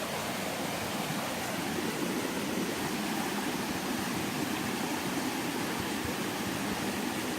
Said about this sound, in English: A moving stream right next to a little waterfall.